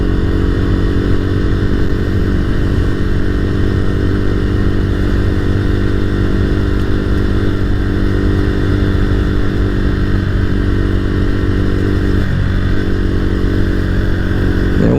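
Motorcycle with a modified exhaust, its pre-exhaust chamber removed, runs steadily and loudly throughout, a continuous gruff engine drone at near-constant revs with no talk.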